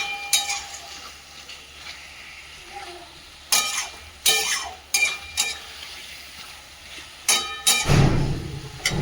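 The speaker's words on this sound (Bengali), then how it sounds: "এইভাবে আলুটাকে সুন্দরভাবে কষিয়ে নিতে হবে" Potatoes being sautéed in a pan for a home-style potato and fish curry, loud repeated metal stirring scrapes in bursts over a soft continuous sizzle, with no talking.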